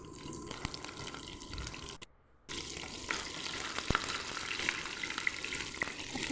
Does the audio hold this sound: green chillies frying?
yes